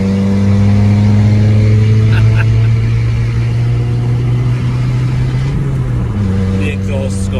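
Fiat 500 engine idling loud and close, then revving up and dropping back with a burbling overrun from a blown exhaust; the steady engine drone runs throughout.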